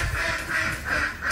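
Farm ducks quack during feeding, with about four rhythmic quacks in quick succession that sound fairly close and moderately loud, and no talk over them.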